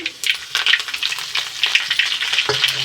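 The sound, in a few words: curry leaves sizzling as they are added to hot oil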